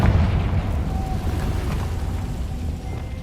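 Confringo spell explosion in the video game Hogwarts Legacy: a loud, sustained rumbling blast with a deep low-end roar that carries steadily for several seconds before easing slightly.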